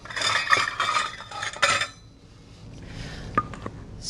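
Flour being scooped into a measuring cup and swept level for biscuits: close scraping and clinking of utensil on cup in a dense burst, then quieter light taps and a few small clicks.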